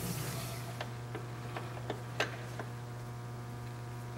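A Hardinge HLV-H precision toolroom lathe running on its threading gears gives off a steady low hum with faint, irregular mechanical ticks and clicks.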